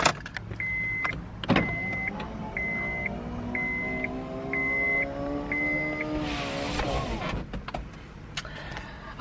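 A Lexus convertible top being raised, a steady electric motor whine running for several seconds with a rising pitch and repeated beeps, ending in a mechanical latch and clunk nearby.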